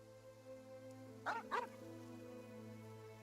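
A dog barking near a cemetery in a video game: two quick, fairly faint barks in the middle over a steady, humming ambient background.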